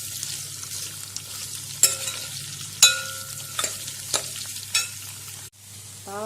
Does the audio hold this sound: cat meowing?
no